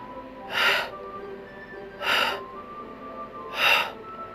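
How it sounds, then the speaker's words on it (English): Three sharp, breathy inhaled gasps from a character in the Doki Doki Literature Club Plus video game, evenly spaced about a second and a half apart over a quiet background. "It sounds like breathing. A sharp inhale."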